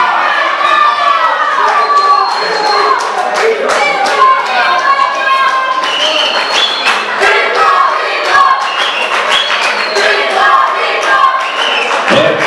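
A loud crowd at a Troia Fighter 2 fight event roars and cheers, with high shouts, whistles and scattered clapping forming a dense continuous wall of noise close around.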